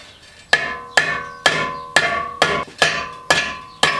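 Eight sharp metallic hammer blows land at a steady pace on a Toyota Corolla E11 exhaust silencer, each ringing briefly before the next strike.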